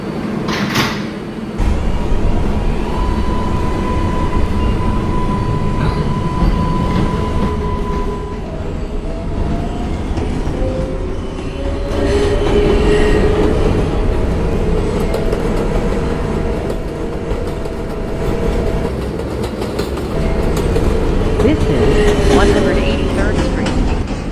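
An R142A subway car on a Woodlawn-bound 4 train rolls along with a loud, continuous rumble, faint wheel clatter and a thin motor whine rising and falling throughout.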